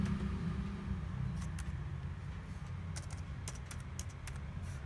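Fingers tap on a computer keyboard in short irregular clusters of clicks over a low background hum, quiet and close, with no speech.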